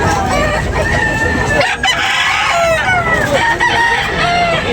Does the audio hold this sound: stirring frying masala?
no